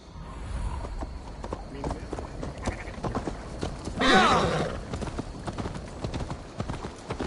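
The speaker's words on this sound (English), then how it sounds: "Stop that horse!" A horse in the Assassin's Creed Valhalla video game clip-clops along with a steady hoof rhythm, then lets out a loud whinny midway, with a voice calling out around it.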